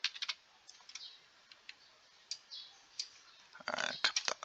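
Typing on a computer keyboard while entering text for a couple T-shirt design, close and clear: scattered single key clicks give way to a fast, dense burst of keystrokes near the end.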